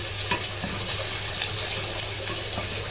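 Blended tomatoes poured into onion frying in ghee in a pan on a gas stove, giving a steady broadband sizzle with small bubbling pops throughout, fairly close, with no talk.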